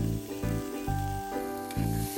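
Tomatoes and egg are stirred while frying in ghee, with a continuous sizzle broken by regular close stirring strokes of a spoon in the pan.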